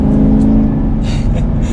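A 2021 Chevrolet Camaro LT1 V8 engine running steadily at quarter throttle while driving, a low continuous rumble close by with a faint rise in pitch, no voices.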